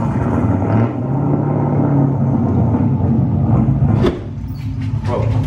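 Recorded LS V8 engine sound plays through a large speaker in a workshop, a loud, continuous low rumble that dips briefly near the end.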